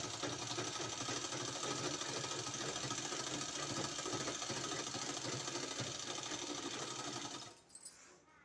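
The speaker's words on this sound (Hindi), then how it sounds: "इस तरह से सिलाई लगाने के बाद हमको इस तरह से फैला के सिलाई लगा देना है इसमें" A sewing machine runs continuously while stitching a kurti sleeve, a fast even mechanical chatter held steady and close, stopping abruptly near the end followed by a brief clunk.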